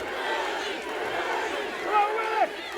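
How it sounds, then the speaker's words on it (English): A wrestling crowd at White Oak Music Hall roars for Willie Mack during a Juggalo Championship Wrestling match, a dense wash of cheering and shouting voices with a couple of sharper yells rising near the end. "Listen to this crowd get behind Willie Mack."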